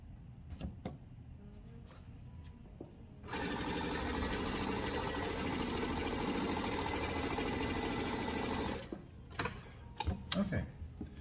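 A sewing machine stitches quilt seams in one sustained, fast run of several seconds, a loud mechanical whirr framed by quieter handling clicks and rustles before and after.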